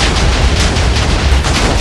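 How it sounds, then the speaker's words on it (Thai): An explosion in the Minecraft video game makes a dense, loud, sustained blast and rumble close by, filling the moment with no speech. "โอ้โหระเบิดโดนผมจริงด้วย"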